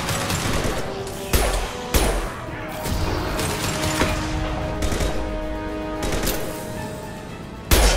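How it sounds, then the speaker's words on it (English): Gunfire in Mass Effect 2 Legendary Edition during a firefight, with a steady rattle of combat noise punctuated by several sharp, loud impact shots spaced a second or two apart, plus sustained tones underneath. "Firing a high-impact shot!"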